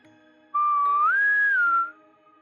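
An eerie whistle sound effect in a horror story, a single clear sustained tone that glides upward midway and holds before cutting off, loud and alone against a quiet background.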